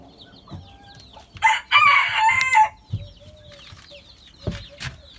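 Chickens at a farm around feeding time: a loud rooster crow rises in the middle, with scattered clucks and soft fowl calls before and after.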